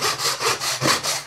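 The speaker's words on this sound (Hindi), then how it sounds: "तो इस वजह से आप इसको आरी ब्लेड से काटें।" A hacksaw blade cuts through material in quick, even back-and-forth strokes, about six rasping passes in just over a second, close and loud with no voices.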